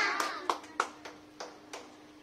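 Scattered applause follows a water-glass magic trick: several separate claps, uneven and fairly close, with no sustained ovation.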